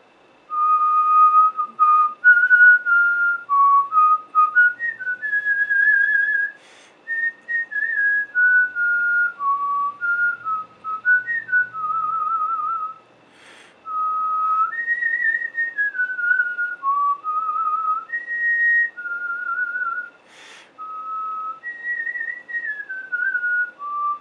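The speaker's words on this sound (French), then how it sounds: "je vais aller siffler les 3 pièces" A person whistles a melodic tune alone, clear and close, with short pauses between phrases.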